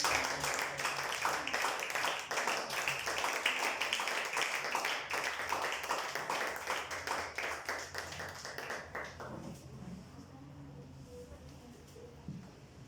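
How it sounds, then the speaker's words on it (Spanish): Church congregation clapping together in a steady, dense burst of applause that gradually thins and fades out toward the end. "Denle un fuerte aplauso a Cristo."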